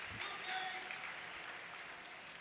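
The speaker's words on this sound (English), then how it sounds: "It's so cool to hear that crowd applaud these sequences." A live crowd at a grappling match in the Orpheum applauds, a steady wash of clapping held at a distance throughout.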